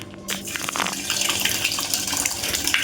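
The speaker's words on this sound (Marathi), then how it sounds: "आता हे पाणी टाकेल त्याच्यात" Water gushes from a vessel into a cooking pot for Maggi noodles, a short pour that starts abruptly and runs as a steady splashing rush close up, with no talking.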